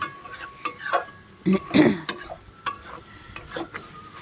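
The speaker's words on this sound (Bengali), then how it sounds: "এবার এটা ভালো করে নাড়তে হবে" Mixed vegetable curry stirred in a pan, with repeated clanks and scrapes of a spoon against metal in an irregular rhythm and a low sizzle underneath, close and fairly loud.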